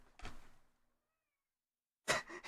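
A pet cat meows loudly twice, once near the start and again after a pause of near silence, both calls close and clear.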